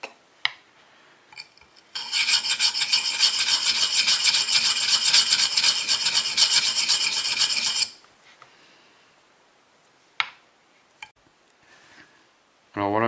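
A small wood carving tool is rubbed back and forth on 180-grit abrasive, giving a steady, close, loud rasping scrape for about six seconds, then stopping, with a few light clicks and handling noises afterward.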